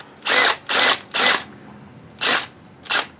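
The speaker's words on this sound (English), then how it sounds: "Alright, so I got my Makita drill start." A Makita cordless drill, used as a starter cranking an HPI Nitro Star G3.0 .18 nitro RC engine, whirs in five short bursts, three in quick succession then two more after a pause, loud and close.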